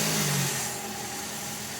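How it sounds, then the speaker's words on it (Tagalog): A Toyota Vios engine with an unstable idle runs at close range, its hum easing slightly as it settles into a steady idle with no voices. "At pag napa-start nyo na itong makina, hayaan nyo lang siyang naka-idle."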